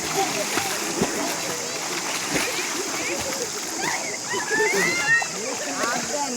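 Water splashing as a father and children race each other swimming at a waterfall, irregular close splashes and sloshing with voices talking over them.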